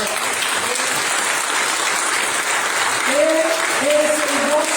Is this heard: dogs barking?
no